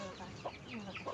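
A farmyard rooster gives a few short clucks over a soft background hum, fairly faint and brief.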